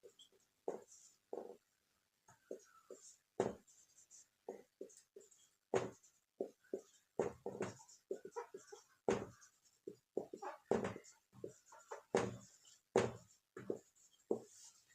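Chemistry notes are written by hand during a lesson, with short scratchy pen or chalk strokes coming in irregular bursts and pauses, close and quiet.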